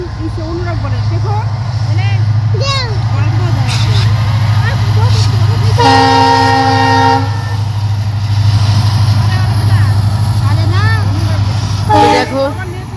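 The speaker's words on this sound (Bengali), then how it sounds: "দেখো ট্রেন যাচ্ছে।" A train passes nearby with a steady rumbling drone, and its horn sounds in one long multi-tone blast midway, with people talking over the noise.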